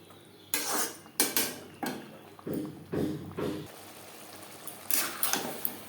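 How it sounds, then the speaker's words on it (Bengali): A spoon scrapes and clatters in a pan as chickpeas with spices are stirred over a medium flame, in repeated short rhythmic bursts separated by brief pauses. "মিডিয়াম ফ্লেমে চার পাঁচ মিনিট নাড়াচাড়া করে নেবো"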